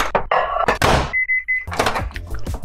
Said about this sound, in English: Let's microwave this for a minute and a half,